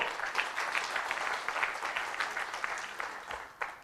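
Audience of over a hundred people at a retail business session applauding, a dense, sustained burst of many hands clapping that thins out toward the end, with some voices underneath.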